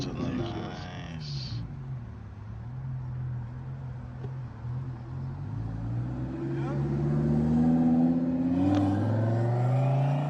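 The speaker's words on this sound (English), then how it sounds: "My car sounds fucking amazing. That exhaust is..." A turbocharged car engine and exhaust rumbles steadily with a rising, revving tone toward the end, fairly close, and people talk over it.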